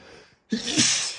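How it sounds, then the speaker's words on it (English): A person lets out one loud, close sneeze with a sudden burst after a brief sharp intake of breath. "I gotta sneeze again."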